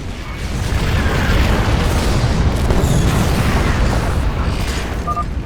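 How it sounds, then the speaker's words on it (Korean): A deep booming missile launch explosion in the StarCraft II: Heart of the Swarm campaign, a loud rumbling blast swelling quickly and holding with heavy low-end roar before slowly easing off. "미사일 발사!"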